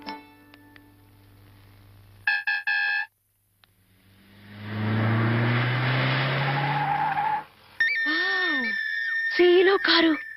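A car's tyres squeal and skid loudly for a few seconds after a brief pause, with chimes and electronic tones before and after and voices heard in the scene.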